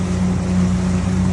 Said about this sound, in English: It has a slight exhaust modification, which is how I got more power.